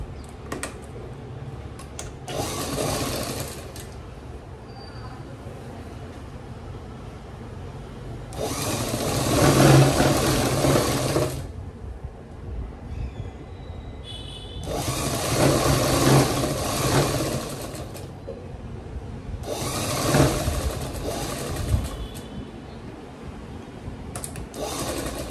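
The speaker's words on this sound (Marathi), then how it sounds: "शिलाई मारून घेते." Sewing machine stitching fabric for a Peshwai nauvari saree, running in several long rapid rattling bursts separated by quieter pauses of handling, close and clear with no voices.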